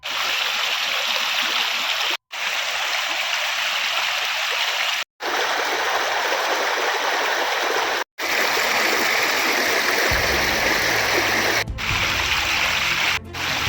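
Flash flood water rushing loudly and steadily through a flooded area, a continuous broadband roar that stays close and dense, broken only by a few brief cuts.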